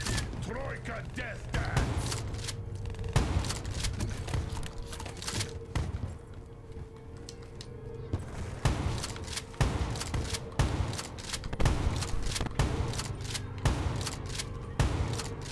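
Repeated shotgun blasts in Black Ops 3 Zombies, loud sharp bangs at irregular intervals over busy game sounds, with people talking in between.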